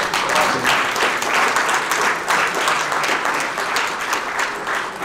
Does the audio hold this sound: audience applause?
yes